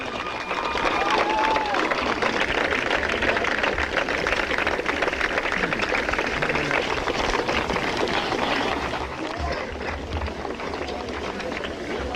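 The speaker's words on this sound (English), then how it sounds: "give them a round of applause" Graduating high school seniors at a 2014 graduation ceremony applaud, a dense, loud wash of clapping and crowd noise that holds steady throughout and eases slightly near the end.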